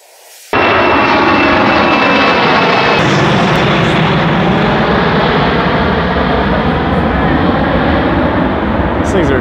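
A float plane roars loudly on takeoff near the water, a powerful sustained engine drone that starts suddenly and holds steady throughout.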